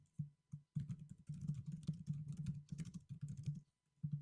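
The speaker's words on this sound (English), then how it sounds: "Typing ensues." Fast, uneven clatter of a computer keyboard being typed on, with brief gaps between bursts, close and fairly prominent with no voices.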